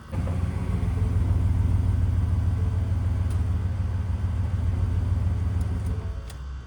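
A 2020 Ford F150 pickup's engine runs with a steady low rumble, heard from close by, easing off near the end with a couple of faint clicks.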